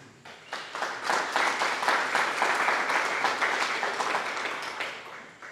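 An audience at a company annual meeting applauds, a small crowd clapping steadily at moderate volume for several seconds before tapering off, with no speech over it.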